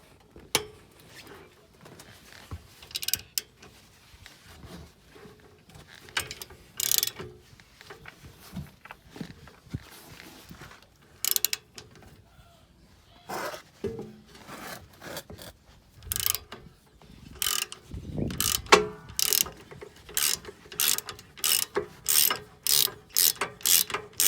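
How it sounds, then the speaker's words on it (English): A ratchet loosens the brake caliper bolts on a Buick Enclave's rear brakes, giving bursts of quick clicking that turn into a dense run of rapid clicks, mixed with metal scrapes and clunks, close up with no talk. "make sure you loosen both of them before you take the nut all the way off."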